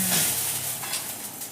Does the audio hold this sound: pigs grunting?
no